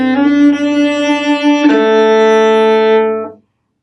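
Cello in a tango passage, heard as one loud bowed line of sustained, harmonically rich notes with a brief shift in the middle, then fading out at the end, with no voices.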